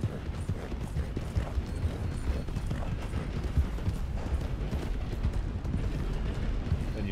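Horse hooves clip-clopping at a steady gallop in the Red Dead Redemption video game, a dense continuous rhythm of close, moderately loud hoofbeats with faint mechanical clatter, no talk.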